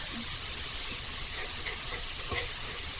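Shaved Philly cheesesteak meat cooking on a hot surface, giving a steady, close sizzling hiss with a few faint scrapes and pops, no one talking.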